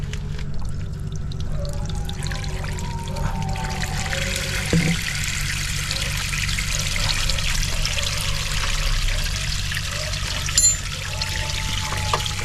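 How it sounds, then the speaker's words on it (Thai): Water runs through a household water pump to flush out rust, making a steady trickle and pour that continues for the whole stretch, close by with a few faint knocks and no speech. "เปิดน้ำไล่อีกทีนะครับ"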